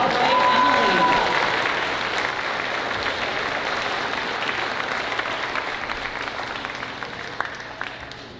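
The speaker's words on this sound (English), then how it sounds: "All right, another round of applause." An audience at a post-secondary graduation ceremony in Wiikwemkoong applauds in a sustained, dense wash of clapping that slowly fades over several seconds, with a voice speaking at the start.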